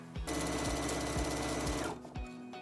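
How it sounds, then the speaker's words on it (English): A sewing machine runs a quick closing stitch across a fabric zipper pouch, a fast even whirr for nearly two seconds that stops, followed by a few soft mechanical clicks. "just use your machine and do a quick stitch right just to close it up"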